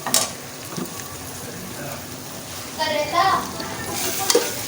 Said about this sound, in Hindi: इसको मिक्स कर लेना अच्छी तरह।